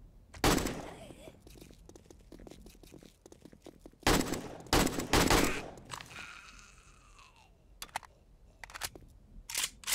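Bursts of rapid AK rifle fire in the zombie survival game 7 Days to Die, several loud volleys separated by pauses, with quieter clicks and effects between them.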